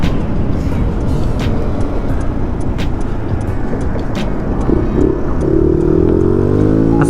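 A 2016 Yamaha Zuma 125 scooter fitted with a new intake runner and filter, heard while riding: a steady loud engine drone and road rumble throughout, with a rising note near the end as it slows to turn left and make a U-turn.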